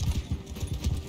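Horse hooves in the video game Mount & Blade II: Bannerlord give a quick, loud, continuous galloping rhythm of heavy thuds for about a second.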